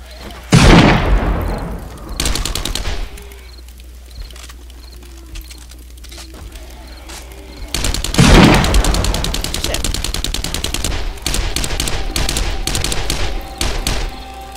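Rifle gunfire in the zombie-survival game 7 Days To Die during a day 35 horde night: two loud, sharp shots with ringing tails, then a long stretch of rapid, dense firing, with faint voices underneath.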